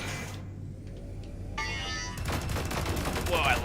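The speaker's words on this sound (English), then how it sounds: "We have a minigun, and that's it." A minigun in the video game Sublevel Zero firing a rapid continuous stream of shots, loud and close, building over the last couple of seconds, with someone talking before it starts.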